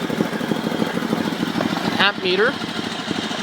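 A 1974 Sears Suburban SS16 garden tractor, its dash cracked, idles with a steady, close, pulsing thump while someone talks over it briefly.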